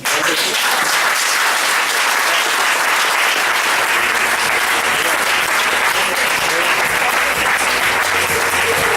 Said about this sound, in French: Merci d'applaudir Dennis Estes.